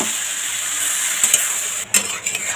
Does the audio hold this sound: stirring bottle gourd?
yes